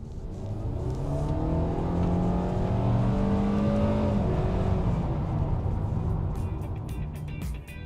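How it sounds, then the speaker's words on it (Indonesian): A Kia Carens MPV engine with IVT transmission revs up under acceleration in sport mode, its whine rising steadily in pitch over several seconds before easing off, heard from inside the vehicle. "kalau kita misalnya masukin ke mode sport, kita akselerasi ya"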